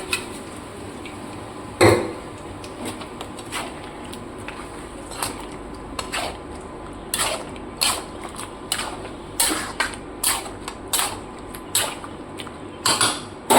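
Marinated chicken is stirred in a pan, cooked without oil, with a utensil clinking and scraping against the metal in irregular bursts, sharp clanks over a quiet background hum.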